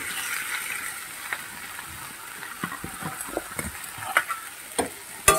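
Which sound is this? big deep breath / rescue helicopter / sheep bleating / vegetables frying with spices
vegetables frying with spices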